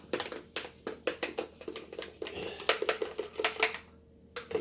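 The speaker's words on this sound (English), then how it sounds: "We're gonna put some root beer in there. Put a little bit in there, then we're gonna go ahead and stir it up." A utensil stirs root beer glaze in a pot for chicken wings, making quick repeated clinks and scrapes against the metal in an uneven rhythm, close and fairly clear.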